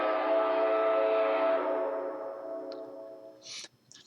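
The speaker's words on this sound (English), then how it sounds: "normally when you play the whistle, you hold the whistle button down briefly and it will play." A loud, sustained train whistle sound clip from a sound module with a rich harmonic tone that fades out over a couple of seconds, followed by a few short hissing bursts.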